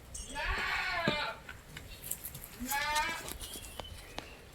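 A mother goat and her two kids, one male and one female, bleat in two loud, wavering calls close by, with a brief quieter pause between them and some faint background noise.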